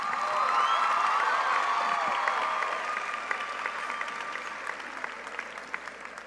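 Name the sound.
audience applause and cheering at graduation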